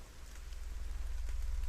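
Rain falls in a video game's village setting, a soft, steady patter of drops on surfaces with a low rumble beneath, growing slightly louder over the short stretch.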